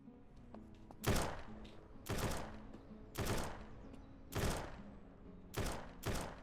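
Six heavy gunshot blasts in the video game SurrounDead at roughly one-second intervals, loud and booming, with a faint background hum between them and no talking.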